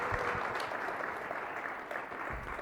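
An audience applauds at a startup competition grand finale, a dense, steady wash of clapping hands that carries on evenly throughout without a clear voice above it.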